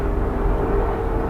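A helicopter flies overhead, its steady low engine drone and rotor rumble loud and continuous through the short moment, with no other sounds standing out.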